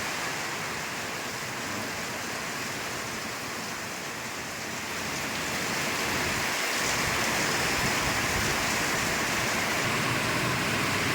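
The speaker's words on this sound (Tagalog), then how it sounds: "Sana naman eh, hindi na lumakas itong ulan." Heavy rain pours steadily in Daet, Philippines, a dense hiss of water on surfaces that swells slightly louder partway through and continues without pause.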